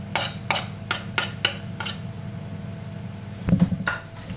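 Smoked fish poaching in milk with shredded bay leaf and parsley is stirred in a pan, giving a run of sharp spoon-on-pan clinks and scrapes early on, then a louder scraping stir near the end.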